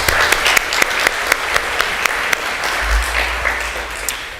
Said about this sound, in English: I'd like to take a moment to give another round of applause to our valedictorian, Catherine Grimm, and also our salutatorian